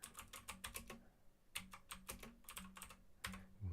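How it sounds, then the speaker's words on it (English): Rapid typing on a computer keyboard, ASMR style, in bursts of dense clicky keystrokes separated by short pauses, close and fairly quiet with no talking. "You love that ASMR on that keyboard?"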